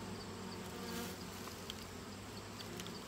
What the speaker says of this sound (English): So we got a nice big box of bees here.